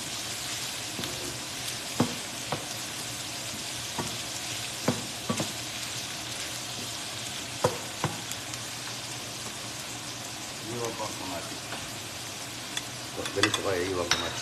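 Shrimp and vegetables sautéing in a pan, a steady crackling sizzle punctuated by sharp clacks of a utensil against the pan and stirring scrapes, with a few busier bursts toward the end and no voices.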